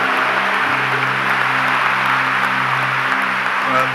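Loud, dense applause from a large crowd fills the room at a talk by a Virginia Military Institute alumnus, holding steady throughout over a low hum.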